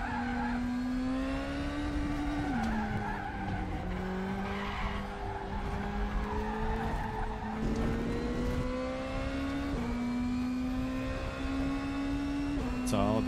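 BMW DTM race car from the 2020 season in the RaceRoom racing game at Aragon circuit, its somewhat muffled, muted engine droning steadily with shifting revs and tire squeal through corners, continuous and loud with no talking.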